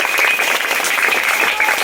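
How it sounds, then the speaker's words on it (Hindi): Dense, loud applause from a school crowd at a children's parliament election event, steady for the whole stretch with no talk over it. "एक बार जोरदार तालियां सर के लिए।"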